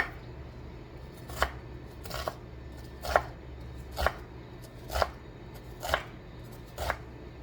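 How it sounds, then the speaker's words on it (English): A knife makes small, shallow cuts into an onion on a board, eight crisp evenly spaced taps roughly one per second, close and clear over a low hum. "I'm just making real small, little even, shallow cuts, not cutting it straight through"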